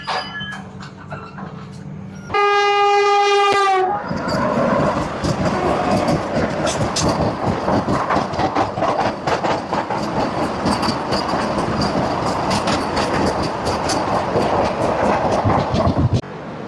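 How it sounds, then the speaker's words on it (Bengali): The Puri–Anand Vihar Nilachal Superfast Express sounds a loud sustained horn, then runs past with a steady rumble and rhythmic clickety-clack of wagons, close and loud for many seconds. "এক ঘন্টা 55 মিনিট লেটে পুরী আনন্দ বিহার নীলাচল সুপারফাস্ট এক্সপ্রেস পশ্চিমবঙ্গ রাজ্যের প্রথম স্টেশন এই ট্রেনের"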